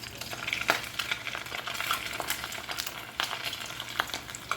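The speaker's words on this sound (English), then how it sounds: "I just hold it, I get it, put it in the oil" A rolled blue corn tortilla taquito sizzles and crackles in hot frying oil, a steady close hiss with scattered pops and stirring scrapes and no talking.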